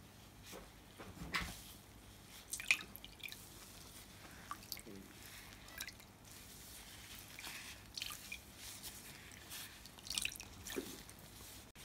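Water drips and squishes from spawning mops being squeezed dry after soaking in cool water, with faint irregular drips and wet squelches spread across the quiet clip.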